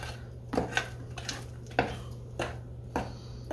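Brownie batter being mixed in a bowl, with a few soft, irregular scrapes and clinks of the utensil against the bowl, quiet and close, over a low steady hum.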